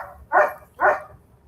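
A neighbor's dog gives two barks in quick succession, fairly close and clear, with no talking over them.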